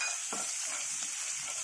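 Grated ginger fries in hot oil for an aloo matar curry, a continuous close sizzle broken by a few scraping stirs, with no voices.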